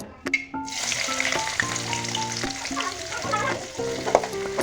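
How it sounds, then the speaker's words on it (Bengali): Onions sizzle and crackle steadily in a hot pan while being fried for mustard hilsa, a close, continuous frying hiss with occasional stirring scrapes and some tonal sounds over it. "পেঁয়াজ মোটামুটি ভাজা শেষ"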